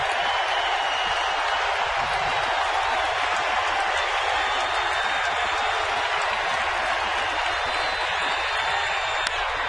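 A stadium crowd of over 40,000 baseball fans roars steadily, cheering and waving towels at a night game, a dense, unbroken wall of noise with no break.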